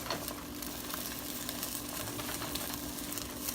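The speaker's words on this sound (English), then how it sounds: "So I'm going to cook this egg down." Three beaten eggs fry in a skillet, giving a steady, even sizzle close up that holds without a break for a few seconds, with no talking.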